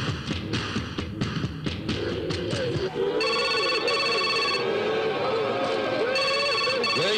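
A telephone rings out in a dubbed South Indian action film, its steady electronic ring tones repeating over several seconds under an overlapping voice and background hum.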